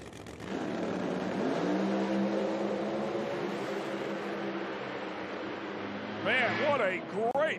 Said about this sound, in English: Great drag race right there.